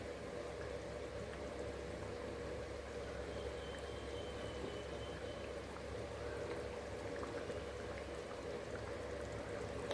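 Paneer curry gravy bubbles and simmers in a pan, a steady, faint, even boiling patter with no pause and no talk.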